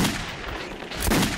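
In the Metro 2033 video game, gunfire bursts out as sharp, loud blasts with booming tails, one near the start and a stronger shot around the one-second mark, with no talking.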